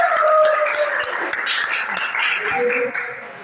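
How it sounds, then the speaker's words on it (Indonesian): Students in a classroom clap for a classmate: a scattered, moderate round of applause with sharp individual claps, mixed with voices and fading toward the end. "Kita kasih tepuk tangan untuk temannya"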